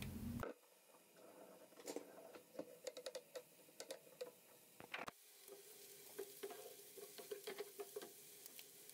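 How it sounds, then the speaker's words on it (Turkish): A large onion fries in a little oil, a quiet close sizzle broken by clicking stirs and spoon taps against the pan, with the frying briefly louder after a scrape near the middle. "1 adet büyük boy kuru soğan, biraz sıvı yağla kokusu çıkana kadar kavuralım"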